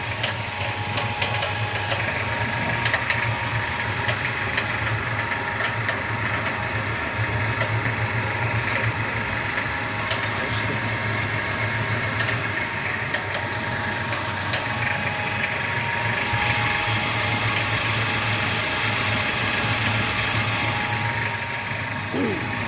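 An NM 200U pellet mill's electric motor runs steadily throughout, a constant mid-pitched hum with mechanical vibration and grinding texture, close and continuous with no pauses.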